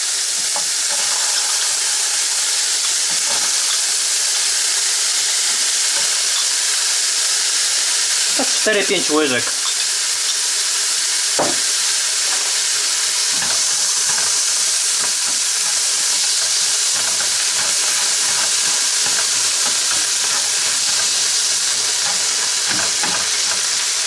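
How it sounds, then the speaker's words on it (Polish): Tofu and chickpeas frying in a pan, giving a steady, close, continuous sizzle and hiss, with a brief stirring clatter and a short spoken phrase over it. "Rzucam na patelnię."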